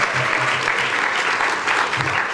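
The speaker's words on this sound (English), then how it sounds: "You can clap for that." Conference keynote audience claps for a newly launched commission prioritizing inclusivity, a loud, dense burst of applause sustained throughout with no speech over it.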